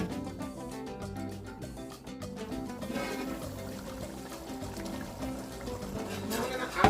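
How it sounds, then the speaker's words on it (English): Water splashes and pours into a pot of curry goat, a steady close trickling that runs throughout with some kitchen clatter and muffled background sound. "Now I'm going to add some more water to this"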